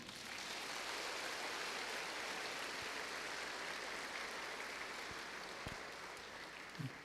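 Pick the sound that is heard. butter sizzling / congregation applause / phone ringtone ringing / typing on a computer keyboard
congregation applause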